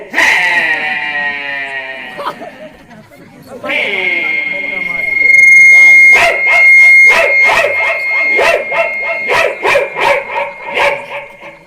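A person imitates a dog's whimpering cries during a folk theatre performance: long, high, wavering whines, then a run of short yelping sobs, loud and close.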